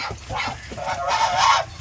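Domestic geese on a goose farm honk in a run of loud, nasal calls, several overlapping and rising toward the end.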